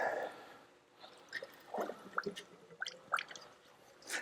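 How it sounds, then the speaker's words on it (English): Water drains from the inlet port of a Blu Tech water softener tipped on its side, faint irregular drips, gurgles and splashes at close range. "Just tip it on its side and allow the water to drain out of the inlet port, just like this."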